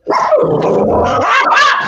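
Dogs bark and growl in another room in one continuous, fairly loud snarling burst lasting under two seconds.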